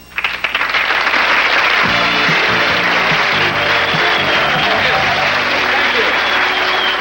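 A studio audience greets a comedian with a rousing welcome, loud sustained applause and cheering starting sharply and holding at a dense roar for the whole stretch, with music underneath.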